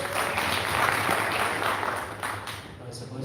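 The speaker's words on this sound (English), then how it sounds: "Please give him a round of applause." Audience applause at a World Kidney Day celebration at a resort hotel, dense clapping from a crowd that swells and then thins out, with some voices mixed in underneath.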